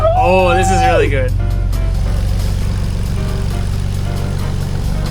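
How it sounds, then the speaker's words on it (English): A Nissan 300ZX engine, a barn find, after a timing belt service: a steady, loud idle rumbles throughout, with a person's excited voice over it at the start. "It's idling. It's never idled this good before, ever."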